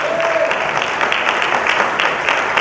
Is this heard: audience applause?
yes